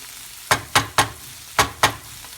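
Garlic and peppers frying in a pan, with five sharp, evenly spaced scraping knocks, likely a wooden spoon against the pan, heard close over a faint background.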